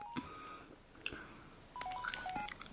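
A phone rings in the Pokémon White video game as a series of short electronic beeps and chiming tones, clear and alone over faint background sound.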